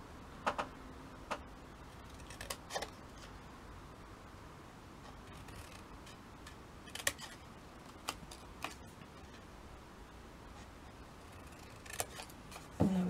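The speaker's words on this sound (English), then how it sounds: "Now, scissors." Scissors snip through paper banners in a few quiet, sharp cuts scattered between pauses, close and faint against a soft room background.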